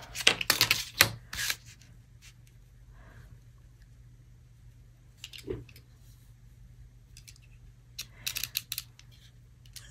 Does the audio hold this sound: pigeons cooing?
no